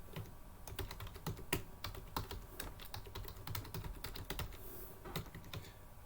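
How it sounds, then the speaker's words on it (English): Keys clatter on a computer keyboard while numbers are entered into a Microsoft Access database form, steady close-up tapping with quick irregular keystrokes and no voices. "I'm typing 4 on my keyboard"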